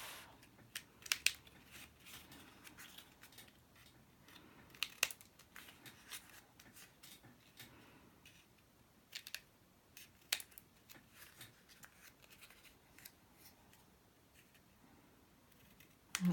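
Scissors snipping foil for a gift bag, quiet close crisp cuts and crinkling handling noises scattered irregularly over a faint background, no speech.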